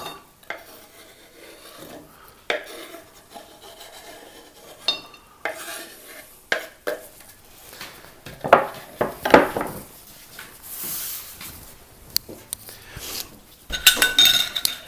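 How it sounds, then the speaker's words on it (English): Salsa ingredients mixed on a plate, with intermittent scraping, rubbing and clinking of utensil against the plate in short bursts separated by quiet pauses, growing busier toward the end. "I'm going to be mixing this in a normal plate and then I'm going to scoot it over to a serving dish"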